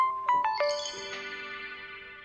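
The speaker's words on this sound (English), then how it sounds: "so I set an alarm to make sure I get my reward" A phone alarm goes off with a short, bright chiming melody, a few quick ascending notes that ring out and then fade gradually.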